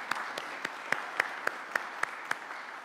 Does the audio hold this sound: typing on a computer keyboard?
no